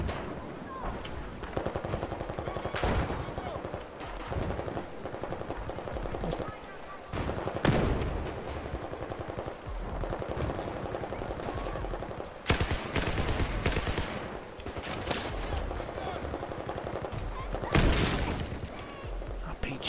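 Battlefield 4 campaign combat with continuous gunfire: rapid automatic bursts and heavier blasts layered over a constant battle din, with several louder bangs standing out, and a voice talking throughout.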